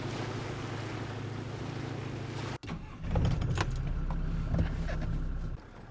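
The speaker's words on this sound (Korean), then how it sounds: "부지런한 농촌 생활에 적응한 듯 손수 트럭을 운전해 깊숙한 산골짜기까지 들어가는데요" A truck is driven into a deep mountain valley in the countryside. A steady engine drone cuts off abruptly, then a rougher rumble with rattles and knocks continues before easing off.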